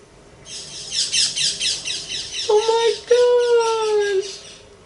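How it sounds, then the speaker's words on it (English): A parakeet calls from a mahogany tree, a fast burst of shrill chirps followed by two longer, falling squawks, fairly close and loud with no talk. "we had a parakeet in the mahogany tree."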